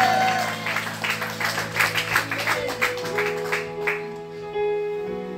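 A church congregation applauding to acclaim the Lord, a rhythmic patter of clapping that swells and then fades over a sustained organ or keyboard chord.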